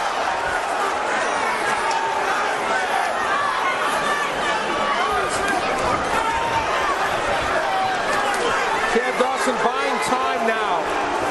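A boxing crowd boos during the Chad Dawson vs Glen Johnson fight, a dense, continuous wall of loud arena noise with commentators talking over it.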